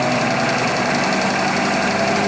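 Engine held at 1500 RPM during a distributor advance test with new old-stock springs, a loud steady close-up running drone with a fast even pulse throughout.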